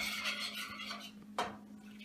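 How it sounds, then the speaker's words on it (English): A spoon stirs a sauce of milk and beer in a pot, with soft scraping close by and one sharper clink of metal against the pot. "And then we're going to continuously stir this for 2 minutes."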